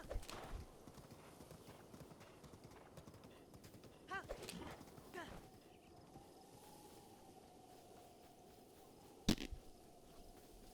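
Hoofbeats of a horse ridden in The Legend of Zelda: Breath of the Wild, a steady clip-clop under ambient game wind, with a louder thump near the end.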